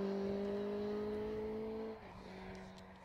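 A rally car on an asphalt stage at the Cheviot Stages, its engine a steady drone heard from a distance that drops in pitch as it passes, faint and alone.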